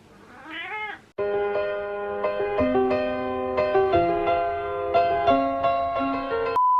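A rain-soaked cat gives a short, rising and falling meow up close, followed by sustained steady tonal notes that change pitch in steps, with no voices.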